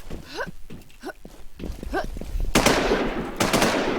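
Gunfire in the video game Infestation: a few scattered single shots and footsteps at first, then loud bursts of rapid automatic fire crackling close by.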